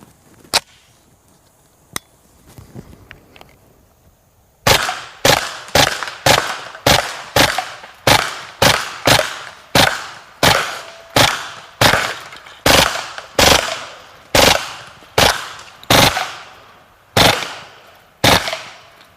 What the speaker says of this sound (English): you can actually hear the difference in the rate of fire between the plus P ammunition and some of the regular ball ammunition